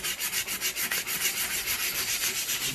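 Coarse sandpaper scrapes along the grain of a wooden wild rice knocker in brisk, evenly spaced rubbing strokes, near and continuous, without any voices.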